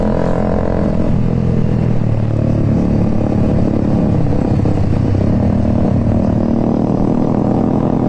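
A Honda CBR motorcycle engine roars close by at speed on a road to Malino, a loud steady drone with rushing wind and road rumble.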